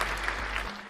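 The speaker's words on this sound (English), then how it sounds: "I gotta get you the hand claps for that, brother." A short burst of hand-clap applause sound effect, dense and loud, fading out toward the end.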